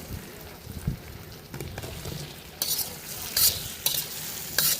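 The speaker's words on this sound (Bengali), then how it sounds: "ভালো করে মশলার সাথে আলু আর টমেটোটাকে কষিয়ে নেব।" Potatoes and tomatoes stir-fried with spices in a pan for Bengali crab curry, a soft steady sizzle broken by several bright scraping stirs of the spatula, close and without talk.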